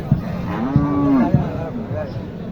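A dairy cow moos several times in drawn-out, low calls, close by at a cattle market, with a steady hum of background noise.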